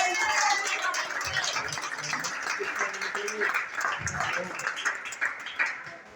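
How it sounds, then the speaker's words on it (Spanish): A church congregation claps during a Spanish-language Wednesday worship service, a busy mix of applause with voices speaking and calling out over it. "Dale un aplauso al Señor."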